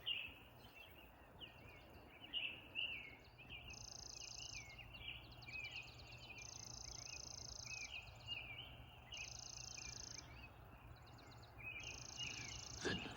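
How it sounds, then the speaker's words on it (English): A chipping sparrow gives a dry, flat, mechanical trill, repeated several times as short bursts at moderate distance. Other bird chirps and faint insect noise fill an otherwise quiet outdoor setting. "Very non-musical trill of the chipping sparrow"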